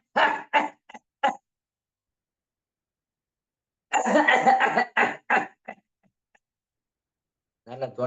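Several sharp coughs come in two bursts with silent gaps between them, taken during a breathing exercise, followed by a brief stretch of speech at the close.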